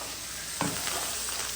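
Dry red chillies, whole spices and onion fry in hot oil, a constant close sizzle that swells briefly with a stirring scrape partway through before settling back into a steady hiss.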